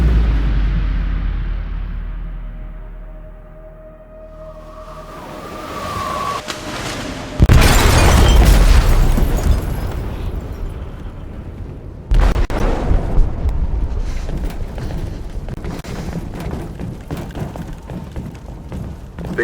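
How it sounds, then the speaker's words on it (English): An explosive detonates in a ship's hold in Detroit: Become Human, a heavy booming blast that surges loud and close, followed by a long roaring rumble and a second swell of debris and rushing noise. "They detonated an explosive in the hold."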